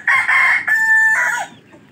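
Chickens with chicks clucking loudly and close by, a sustained crowing-like call in the middle, then trailing off into quiet.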